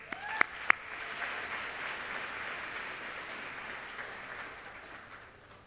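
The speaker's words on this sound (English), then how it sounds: "One round of applause." Audience applause at a school district educators' salute event, a broad steady patter of many hands that holds for several seconds and slowly fades, with a couple of sharp close claps at the start.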